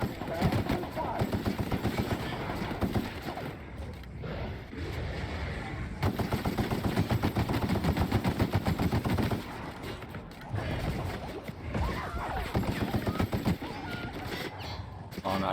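Rapid automatic gunfire in The Outer Worlds: dense bursts chatter in repeated volleys with short pauses between them, loud and close against a busy game soundscape, and a voice talks over parts of it.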